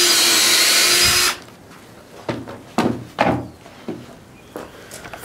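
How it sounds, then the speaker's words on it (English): A power drill whirs loudly for about a second as it bores down through canvas for a backpack grommet, then stops, followed by several sharp knocks and handling bumps nearby. "And this time I'm gonna drill right down into my canvas on this one."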